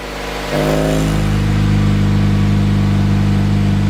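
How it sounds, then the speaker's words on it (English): A Ford Fusion 2.3L engine with its exhaust valve open cranks and catches after half a second, then settles into a loud, throaty, rumbling idle that continues steadily. "I'm gonna start it up now. I'm gonna go ahead and open it now."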